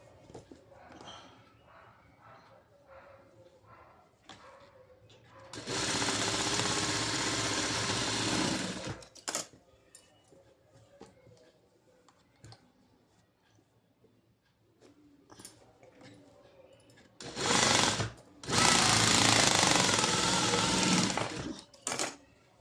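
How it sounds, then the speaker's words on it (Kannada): A sewing machine stitches darts on a blouse in two long, loud, even bursts. Quieter stretches between them hold faint handling clicks and rustles. "ಈಗ ಡಾಟ್ ಸ್ಟಿಚ್ ಮಾಡ್ಕೊಳ್ಳೋಣ ಫ್ರೆಂಡ್ಸ್."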